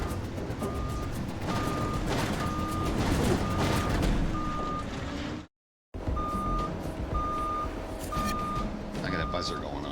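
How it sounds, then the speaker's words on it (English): A warning buzzer on a heavy logging machine sounds in evenly spaced steady beeps over the rumble of the engine, cutting out briefly before resuming. "I got a buzzer going off here"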